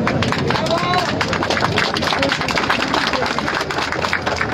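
An audience at a Patria Roja commemoration event applauds in a dense, continuous patter of many hands, loud and sustained with crowd babble mixed in.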